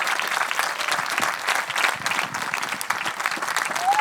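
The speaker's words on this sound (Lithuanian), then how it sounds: "Jūsų visų aplodismentams skambant" A television studio audience applauds continuously, a dense close wash of many hands clapping at steady loudness from start to finish, with no talking over it.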